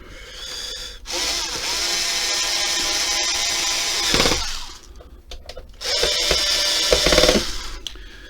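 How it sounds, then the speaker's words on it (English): A worn bit on a powered torque screwdriver driving a screw into a PS5 console whirs like a small drill in two long, loud, close runs, rising in pitch near the end of each, with a short clatter in the pause between. "my little Torque screwdriver bit is kind of wearing out. It sounds more like a little drill at the end."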